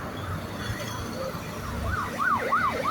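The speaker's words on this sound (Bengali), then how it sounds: "অ্যাম্বুলেন্স যাচ্ছে," An ambulance siren wails on a road near a flyover, its rising and falling tone growing louder over steady traffic rumble in the final seconds.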